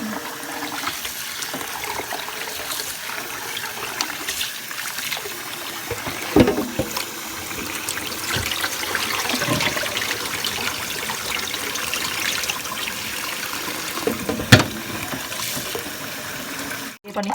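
Dried Lao-style rice vermicelli noodles rinsed under running water to cool them and wash off starch, a steady splashing trickle with occasional clatters, close by, while someone talks quietly.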